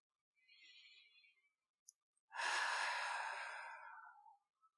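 A slow, deep breath taken close to the mic in a quiet room, a soft inhale followed after a short pause by a longer, fuller airy exhale that fades out.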